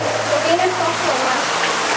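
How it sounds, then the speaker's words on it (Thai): Water falls from above into a green-tinted pool at a waterfall near Ban Sing Tham, Chiang Kham, a steady close rushing roar with people talking over it. "โอ้ยน้ำตกจากข้างบนเลยนะครับน้องๆแล้วก็นี่น้ำเป็นสีเขียวเลยนะฮะ"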